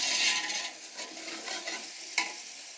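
Beef pieces fry in a pot for yakhni pulao, giving a steady bright sizzle with soft stirring scrapes and a sharper clatter near the end, close and alone.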